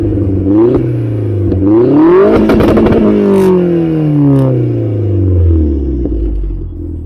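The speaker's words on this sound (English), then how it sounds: "Right, so it's just a standard VXR engine." Vauxhall Astra VXR with a modified exhaust revving hard nearby, engine pitch climbing through several sharp blips then sliding down slowly into a loud, rumbling burble.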